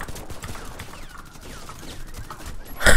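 Rapid gunfire from an automatic sniper rifle in the online shooter Warface: scattered faint shots under game noise, then a loud, sharp burst close by at the very end.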